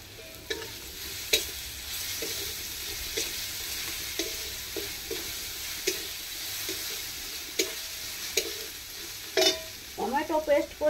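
Ginger and garlic fry in oil in a pan for onion paratha, giving a steady low sizzle. A utensil scrapes and knocks in repeated stirring strokes, and a voice briefly speaks at the end.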